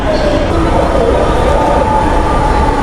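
A Dhaka metro train arriving at the platform, a loud, steady low rumble with a faint whine, continuous and close, with no pauses.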